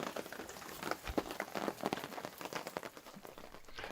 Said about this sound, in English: it is raining since, last night